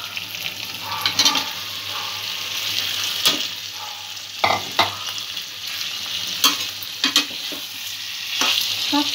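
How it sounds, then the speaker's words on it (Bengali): Fried potatoes and pointed gourd (potol) are stirred in a sizzling pan for chaal potol, with steady frying hiss and repeated scraping knocks of a spatula, close and fairly loud, with no talk. "আলু আর পটল যেটা ভেজে রেখেছিলাম সেটাও মিশিয়ে দেবো।"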